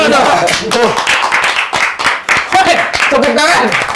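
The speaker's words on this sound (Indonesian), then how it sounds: "Kita tepuk tangan dulu dong." A group claps together, a steady burst of applause close by, with voices mixed in under the clapping.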